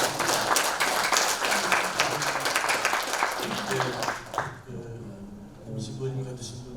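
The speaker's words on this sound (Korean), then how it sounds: "여러분 박수 한번 부탁드립니다" Audience applause fills a forum hall, dense and steady for about four seconds before fading out, leaving murmuring voices and quieter talk beneath.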